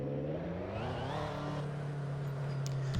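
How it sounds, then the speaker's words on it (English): A racing game car's engine revs upward through a climbing whine, then settles into a steady hum, close and moderately loud, with a faint click near the end. "Love the sound of this car."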